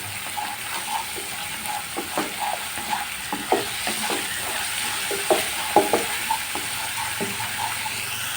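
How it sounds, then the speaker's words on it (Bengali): Garlic paste fries in a pan for a fish curry, giving a steady close sizzle with frequent scraping stirs of a spatula across the pan and no voices. "রসুন বাটাটা দিয়ে খুবই সুন্দর করে আরও দেড় মিনিট ও দুই মিনিট ভেজে নেবো"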